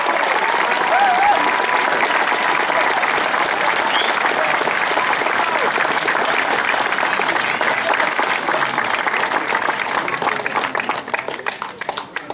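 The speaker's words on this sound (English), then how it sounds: "with a huge round of applause, we now have a first" Sustained applause from a large crowd, steady dense clapping for about twelve seconds, tapering slightly at the end.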